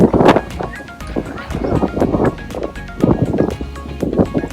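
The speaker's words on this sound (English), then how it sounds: "Windy day here." Gusty wind buffeting a microphone in uneven bursts, with broadband rumble and rustle rising and falling throughout.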